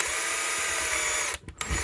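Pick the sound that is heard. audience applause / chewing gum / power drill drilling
power drill drilling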